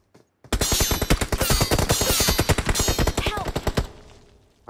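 Rapid automatic gunfire in the mobile shooter BGMI rattles out in a dense, loud burst of evenly spaced shots lasting several seconds before cutting off.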